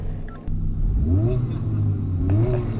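A Honda Civic Type R FL5 engine revs up twice in quick succession, each blip rising and falling in pitch, loud and close over a steady idle rumble.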